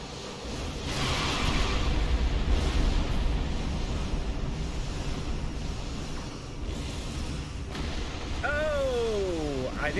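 A big explosion in the space game Star Trek Online swells into a long, heavy rumbling roar with burst and whoosh textures, then fades as a sweeping tonal effect cuts in near the end.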